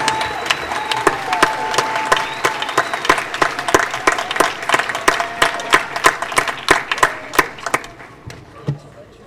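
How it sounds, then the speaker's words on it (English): Graduates and guests at a 2022 graduation ceremony in the Los Angeles Convention Center clap loudly, with sharp distinct claps over a steady crowd wash and a brief cheer, fading out near the end. "Everyone, a round of applause for our committed perfect attendance students."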